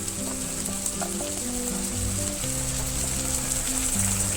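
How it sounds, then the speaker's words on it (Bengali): Onions fry in mustard oil with garlic paste just stirred in, giving a loud, continuous close sizzle while background music plays underneath. "তেল দিয়ে পেঁয়াজ ভুনা করার মধ্যে এখন দেওয়া হলো রসুন বাটা"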